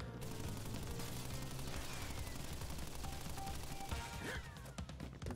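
Rapid machine-gun fire from Pinstripe the weasel in the Crash Bandicoot video game, dense continuous bursts of shots over jazz music, loud and unbroken.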